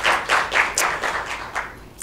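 Audience at a journalism talk event giving themselves applause, heard as a short burst of close, sharp hand claps in an uneven rhythm.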